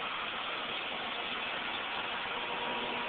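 Steady car engine hum and road noise from inside a vehicle driving through Shawano, a constant muffled drone with no talk.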